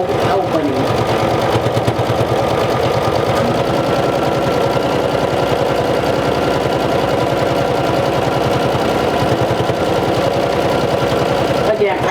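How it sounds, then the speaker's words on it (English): Sewing machine top stitching a lined bib pocket on thin fabric, a fast steady mechanical chatter running throughout, close and loud, with a voice talking over it. "I'm just going to top stitch the pocket just to the top"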